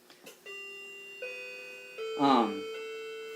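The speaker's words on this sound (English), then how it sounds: "My clock started ringing in my house and it interrupted my presentation" A household clock rings indoors with a sustained, steady electronic chime tone that rises in stages and peaks in a brighter burst near the end, loud and alone.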